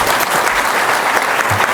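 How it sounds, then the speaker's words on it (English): An audience breaks into dense, steady applause, loud and continuous throughout with no talking over it. "Give a huge applause to Mr."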